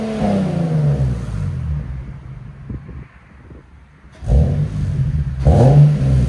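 Revving from a 2011 Nissan 370Z fitted with a Beluga Racing cat-back exhaust, loud and close, with a sustained engine drone that dips briefly before climbing back in two sharp rises. Wind buffets the microphone.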